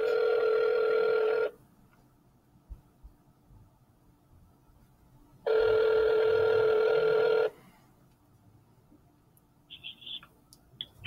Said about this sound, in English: someone better pick this motherfucking phone up